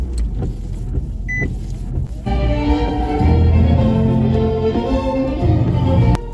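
A cheap used car, bought in Canada for 500 dollars, starts after a few clicks and rattles, then runs with a steady, loud engine idle heard close by.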